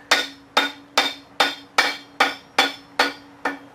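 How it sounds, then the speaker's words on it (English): A rawhide mallet taps a part onto a shaft during a tub grinder jackshaft refurbishment, striking eight evenly spaced, sharp, close blows with short ringing decay. "We're going to use the rawhide mallet."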